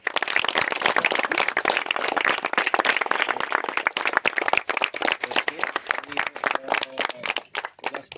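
A crowd at a school sports competition claps loudly and steadily for participants and winners, a dense, sustained wave of applause close by that carries on without a break.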